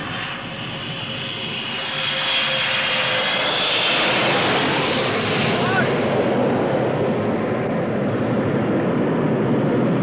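Air France Concorde supersonic airliner landing at Kennedy Airport, a loud, sustained jet engine roar that swells after the first two seconds and holds steady, alone without any voices.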